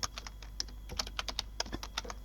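Rapid typing on a computer keyboard while editing text in Photoshop, with irregular clusters of close, crisp key clicks and no talking.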